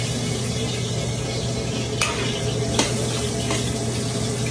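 Garlic frying in oil for Filipino sinangag fried rice, a steady close sizzle with a constant low hum beneath and a few faint clinks of a utensil against the pan.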